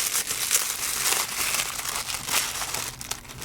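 Paper wrapping around a Genalex Z759 vacuum tube crinkles continuously, a close, busy rustle of handled paper with a few sharper crackles.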